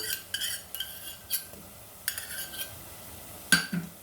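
A spoon stirs and scrapes in a pan as crushed garlic goes into lightly fried onions; several distinct clinks and scrapes come at irregular intervals over a faint sizzle, quiet and close.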